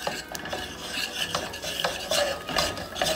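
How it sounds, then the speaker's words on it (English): Choux paste is worked in a pan with a spoon, giving rough rhythmic scraping and rubbing strokes, close and steady, with no voices. "We're gonna mix this up. This is what they call a choux paste."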